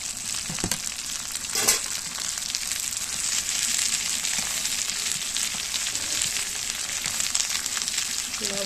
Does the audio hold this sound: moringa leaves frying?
yes